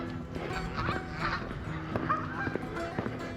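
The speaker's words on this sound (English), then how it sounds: "Some baby ducks there." Ducks and ducklings calling near a walking path, a series of nasal honking quacks from several birds, some close and some farther off, over a soft outdoor background.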